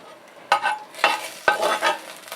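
Onion frying for tlayudas, three sharp stirring scrapes against the pan over a soft close sizzle, each stroke swelling and fading, no talking.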